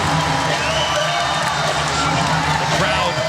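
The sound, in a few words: volleyball crowd cheering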